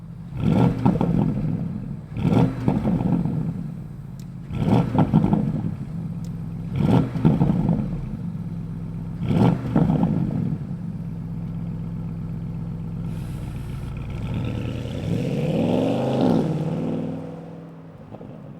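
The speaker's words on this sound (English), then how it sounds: "let's fire up this V8 and hear what it sounds like." A 2023 Porsche Panamera GTS Sport Turismo V8 fires up and revs: four loud, close throttle blips at regular intervals over a rumbling idle, then a longer, rising and falling rev toward the end.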